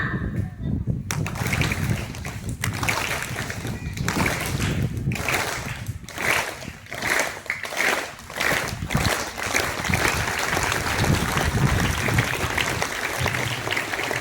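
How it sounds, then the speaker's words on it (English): Students at a school Red Day celebration clap together in rhythm, a busy, roomy wash of hand claps that swells into sustained clapping with a few voices mixed in. "Do you hear any noise, music from this clap?"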